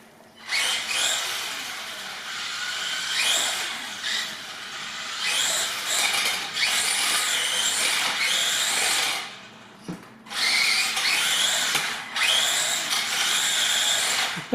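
An X-Rider 1/8 Flamingo 2WD RC tricycle drives with its bars scraping the ground, giving harsh, hissing grinding bursts that come and go with short gaps, loud and close.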